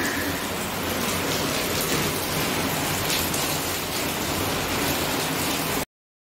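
Dense, steady rain pours down in a continuous hiss that fills the whole stretch, with no voices, then cuts off abruptly.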